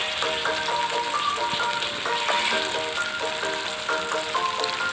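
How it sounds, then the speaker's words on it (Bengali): Pieces of green banana fry in hot oil, giving a steady, dense sizzle with crackling pops and faint clinks of a utensil against the pan throughout. "এবার এটা ভাজা হতে থাক।"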